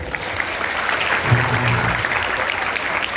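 Steady applause rises from a congregation at a Maulid Nabi Muhammad gathering during a sermon, even and sustained, with a faint low murmur partway through.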